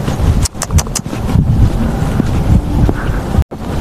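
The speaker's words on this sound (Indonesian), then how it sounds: "Angin sepoi-sepoi." Wind blowing across the Xiangshawan whistling dune desert, a steady broadband rush with microphone buffeting and brief gust surges, continuous and fairly loud throughout, with a short dropout near the end.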